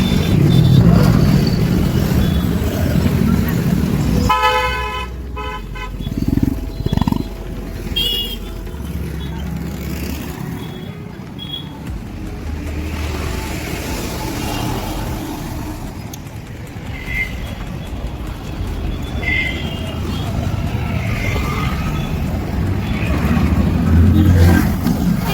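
Busy traffic at a bus stand, vehicle engines rumbling and revving continuously nearby, with bursts of horn-like tones and scattered voices in the background.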